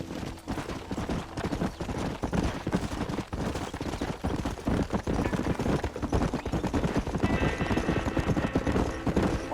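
A horse gallops in Red Dead Redemption, its rapid, steady hoofbeats pounding close for the whole stretch, mixed with bursts of gunfire and loud game action.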